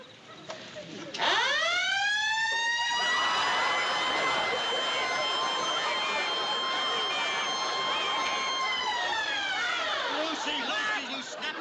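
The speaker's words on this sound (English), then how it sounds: "you stepped on the siren button" A police siren, set off by someone stepping on its button, winds up sharply, holds a loud rising wail for several seconds, then winds back down at the end.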